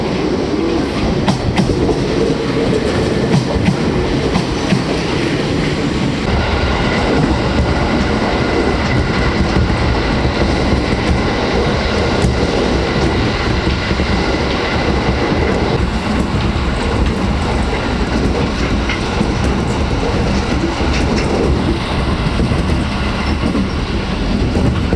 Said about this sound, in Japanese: 1番目列車が到着をしております。